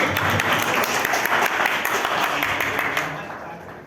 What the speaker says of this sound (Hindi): एक बार ताली बजा दीजिए इनके लिए